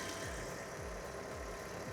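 Fiat 500 engine idling nearby, a steady low-pitched rumble with a regular slightly uneven pulse, heard alone without talk.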